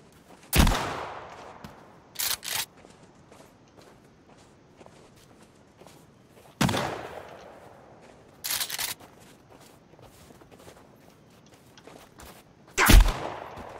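Three loud shotgun blasts from Sons Of The Forest, spaced several seconds apart, each with a long decaying tail, plus shorter clanking pump or reload bursts between them over a quiet game ambience.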